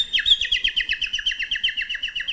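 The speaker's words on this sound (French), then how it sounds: "Au nombre de trilles, on détermine l'âge du rossignol." A nightingale sings a fast, repetitive trill, a rapid series of bright, evenly spaced chirps that runs steadily throughout at close range with no speech.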